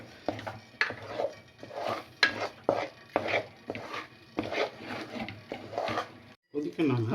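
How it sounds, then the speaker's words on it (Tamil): Thick Tirunelveli halwa is stirred in a pan on the stove, making repeated scraping knocks and clinks of the spoon against the pan in an irregular rhythm, close and fairly quiet, with a voice talking over it. "இது இங்கே அடுப்பில் கிண்டிகிட்டே இருக்கணும்."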